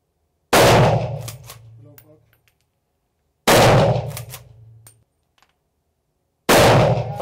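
Three loud, sharp rifle shots fired through an Aimpoint sight, evenly spaced about three seconds apart, each with a ringing metallic tail fading into quiet.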